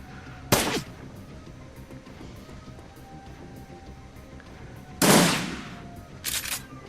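Shotgun fire in the video game Shadowrun Returns: Dragonfall, three loud booming blasts spaced apart with a low ambient game hum between them.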